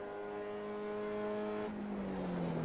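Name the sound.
race car driving around Barber Motorsports Park track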